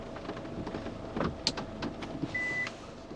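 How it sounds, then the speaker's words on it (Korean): Kia Carnival minivan's sliding door creaks and rattles as the van crawls slowly over rough, uneven pavement into a parking spot, giving irregular crackling clicks over a steady low cabin road hum. "특히 저속으로 이렇게 불규칙적인 노면을 갈 때는 슬라이딩 도어에서 잡소리가 좀 많이 나요."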